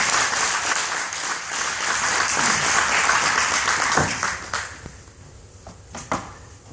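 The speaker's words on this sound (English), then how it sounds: "please help me welcome him with a round of applause" An audience claps steadily to welcome a speaker onstage, the dense applause holding strong before thinning into scattered claps and dying away.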